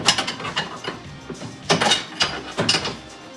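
A wrench turns the 17 mm nut on a seat belt bolt inside a car during a Simpson D3 harness install, giving a series of close, sharp ratcheting clicks and metallic clunks in uneven bursts.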